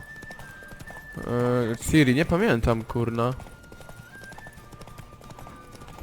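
In The Witcher 3 video game, a horse's hooves clip-clop at a walk under soft game music, while a person speaks briefly over them in the middle.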